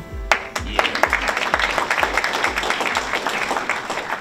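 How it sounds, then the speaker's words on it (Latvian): An audience applauds at the Kuldīga municipality sports awards ceremony, loud sustained clapping with steady heavy thumps underneath, filling the hall without speech. "Es domāju, aplausus uzreiz novadam."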